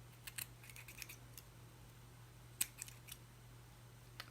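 Scissors trim the frayed edges of a piece of burlap, making a scattered series of faint, crisp snips and clicks close by in a quiet room.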